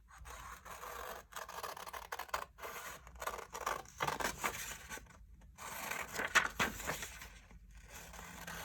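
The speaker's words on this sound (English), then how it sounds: "We're going to cut this out and put on another sheet of paper." Scissors snip and scrape through a sheet of paper while a sewing pattern for a Peter Pan collar is cut out. The cuts come as a close, irregular series of short crisp rasps with brief pauses between them.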